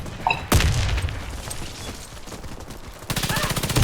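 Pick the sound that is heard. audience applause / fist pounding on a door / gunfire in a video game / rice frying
gunfire in a video game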